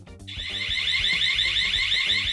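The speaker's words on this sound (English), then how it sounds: "They react to open flame and trigger a loud alarm." A loud, shrill flame-sensor fire alarm on a Wattsan 6090 CNC machine blares continuously in a high, warbling tone, steady and piercing from start to finish, with lower rumbling noise beneath.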